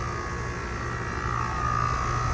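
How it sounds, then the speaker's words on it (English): A TempStar upstairs air conditioner runs with a steady, even hum and broadband whoosh, constant and close with no change over the moment. "Right here is the upstairs air conditioner."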